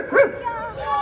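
A short, yelping fox-like call played in a children's animal-guessing game, one sharp bark followed by a softer trailing whine, near and clear.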